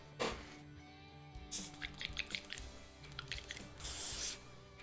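An airbrush sprays Vallejo Model Air paint in short bursts of hiss, with one longer spray near the end, over a quiet background.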